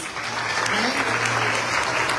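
An audience at a Lincoln Tech summer graduation ceremony in Paramus, New Jersey breaks into steady, dense applause, filling a hall in a continuous wash of clapping with a few voices underneath.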